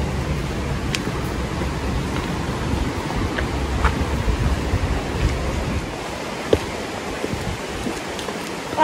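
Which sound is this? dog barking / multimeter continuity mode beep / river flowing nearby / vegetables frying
river flowing nearby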